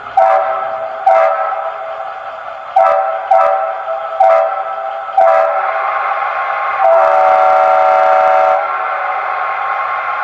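A Leslie RS5T horn on a Bachmann Charger model locomotive sounds as a run of short horn blasts in uneven rhythm, then one longer sustained chord, loud and close, with no talk.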